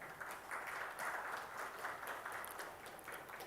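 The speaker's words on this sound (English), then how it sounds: "Satyan, don't clap simply." Audience clapping in an awards-event hall, a steady, moderately distant patter of many hands that continues without a break.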